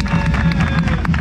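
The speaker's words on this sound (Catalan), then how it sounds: "jo demanaria un fort aplaudiment a la dissenyadora i al que els ha confeccionat" Audience applause at a giants' gathering in Sant Fruitós de Bages, honoring the designer and maker of the figures; dense, steady clapping from a nearby crowd over a short stretch, with some voices mixed in.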